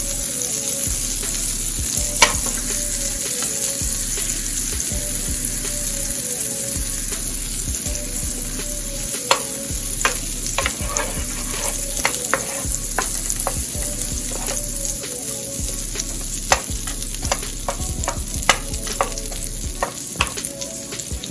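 Two tablespoons of butter melt in a pan for a creamy garlic herb sauce, giving a steady, close sizzle with scattered sharp crackles and pops throughout and no talking.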